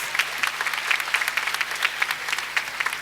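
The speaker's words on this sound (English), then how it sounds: "Please guide her to the podium with your claps" Audience applause at a school Annual Day function welcomes the principal to the podium, a steady moderate patter of many hands clapping, somewhat distant, with no talk over it.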